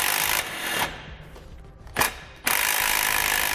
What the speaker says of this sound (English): We can then tighten them down with a 15mm deep well socket.